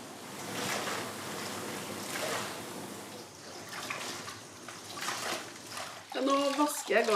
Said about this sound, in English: Now I wash the yarn because it has to be clean when I dye it